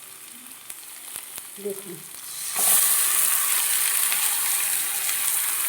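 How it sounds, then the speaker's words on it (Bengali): Dusted pumpkin pieces hit a hot pan: after a quiet stretch with faint clinks and a brief spoken word, a loud, sudden sizzle bursts up and continues as a steady, close frying hiss. "এবার আমি এর মধ্যে দিয়ে দেব ডাস্ট করে রাখা কুমড়ো।"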